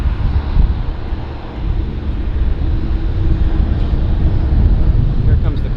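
Carson Air airplane at Vancouver airport (YVR), a steady, loud low engine roar with wind noise over the microphone and voices talking underneath.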